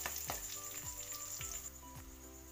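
Whole spices such as dried red chillies, cloves, bay leaf and black peppercorns sizzle steadily in hot oil for an aloo dum biryani tempering, a close, continuous hiss punctuated by a few soft stirring knocks.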